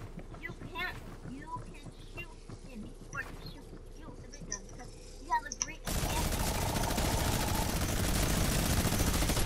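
Rapid gunfire in a video game, bursts of shots mixed with game effects, ending in a sustained loud wash of noise, while a player talks excitedly over it.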